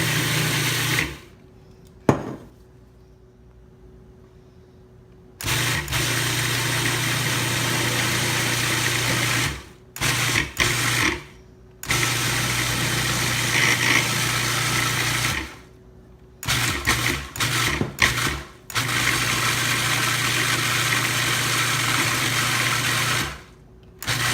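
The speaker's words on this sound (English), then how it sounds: "So I'm pulsing it, and I'm going to add the olive oil while I'm pulsing it." Food processor pulsing basil pesto in repeated loud motor bursts of several seconds each, separated by short pauses, while olive oil is added to emulsify it; a steady hum runs under each burst.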